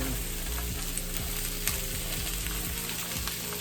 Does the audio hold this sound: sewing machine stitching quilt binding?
no